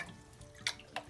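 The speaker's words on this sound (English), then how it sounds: "we want to thoroughly dunk these in the bleach water" Old toys being dunked in a bin of bleach water, giving soft, faint splashes and two brief watery sloshes in a quiet room.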